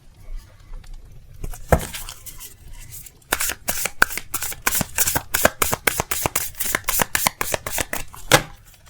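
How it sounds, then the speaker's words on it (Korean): Tarot cards are shuffled and drawn, starting with a few soft riffles and then a long run of crisp, quick card slaps and flicks, close and alone. "카드 뽑아봤습니다."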